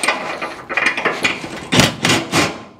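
Ratcheting of a short wrench on a bolt while disassembling a 1970 Chevelle, heard as a series of clicky metallic bursts that grow louder and sharper toward the end, with no talk.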